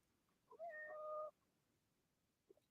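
A pet cat, wet from the rain, lets out a single drawn-out meow lasting under a second, clear and close in a quiet room, followed by a faint small chirp.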